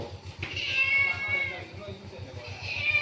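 A cat meows repeatedly in drawn-out, whining cries, close by, with a low rhythmic hum running underneath throughout.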